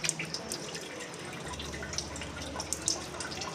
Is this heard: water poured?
yes